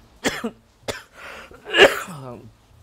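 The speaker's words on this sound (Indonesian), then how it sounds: "cuma ngomong segini aja batuk." Two sharp coughs close to the mic, followed by a throat-clearing rasp and a short low vocal grunt, all loud and without talk, from a videographer shooting handheld outdoors on a street.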